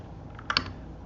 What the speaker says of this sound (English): Here, let me type it.